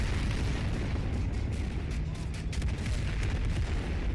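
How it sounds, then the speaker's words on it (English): Fuel tanks exploding during a D-Day style beach assault in a video game, a continuous dense roar of blasts and rumbling booms with crackling bursts, loud and unbroken throughout. "And that's the fuel tanks exploding back here"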